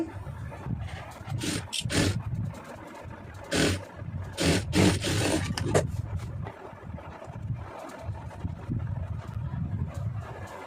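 A sewing machine stitching a blouse lining runs in short, fast mechanical bursts, with quieter pauses between each run of stitches.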